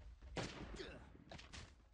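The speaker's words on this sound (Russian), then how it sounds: "А вот это вот снайперский выстрел" Two loud, sharp sniper rifle shots from the game Last Day on Earth: Survival, one near the start and another later, with booming low-end thuds and a busy game background.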